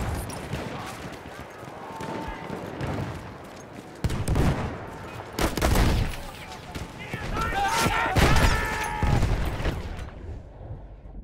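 Bursts of machine gun fire mixed with explosions and battlefield din in the World War I shooter Battlefield 1, set in a forest, building to dense, loud rattling volleys, with a French-speaking voice heard in the mix.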